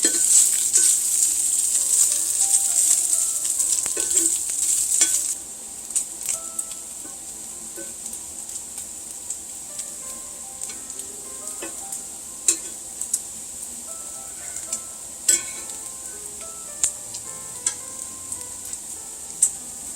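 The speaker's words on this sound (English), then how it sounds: "I stir my bacon frequently to help it get evenly browned." Bacon fries in a pan and gets stirred, a soft steady sizzle at first, then quieter frying punctuated by occasional sharp clicks of a utensil against the pan.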